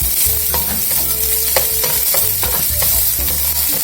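Onion frying in about two teaspoons of oil in a saucepan, a steady close sizzle with stirring scrapes and clinks throughout, no voices.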